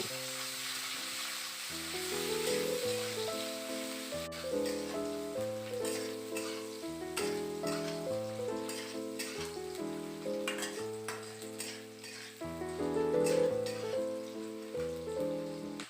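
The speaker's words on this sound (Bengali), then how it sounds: "এবার আমি দিয়ে দিলাম কেটে রাখা পেঁয়াজ পেঁয়াজটাকে ভালো করে প্রথমে আমি ভেজে নেব" Chopped onions sizzle in a pan for a bitter gourd dish, a soft continuous crackle and hiss under prominent background music.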